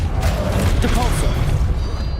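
Depulso force spell impact in Hogwarts Legacy, a dense, loud whooshing blast with low rumble throughout, brief and continuous under the action.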